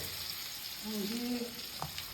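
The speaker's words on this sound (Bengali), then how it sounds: "মাছ ভাজা চলছে" Fish frying in a pan, a steady broadband sizzle running throughout, with a faint voice-like tone briefly surfacing in the middle.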